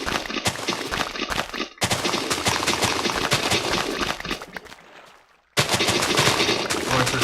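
Sugarcane being chopped down in Minecraft beta: a rapid, dense run of sharp popping break sounds, loud and close, drops out briefly near the end, then resumes at full strength.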